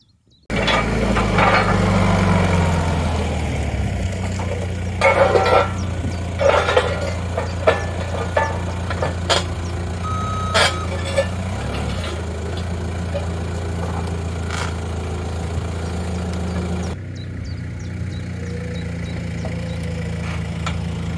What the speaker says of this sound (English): Let's forklift it out the way.